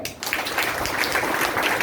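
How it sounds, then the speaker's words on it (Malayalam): An audience claps at a leaders' meeting, a steady spread of many hands clapping at moderate level and holding throughout. "ഒന്ന് കൈയടിക്കാം."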